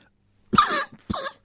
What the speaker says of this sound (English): he says as he's trying to contain his coughing